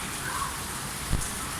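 Heavy rain pours steadily in a broad, even hiss, with one brief thump partway through and no talking.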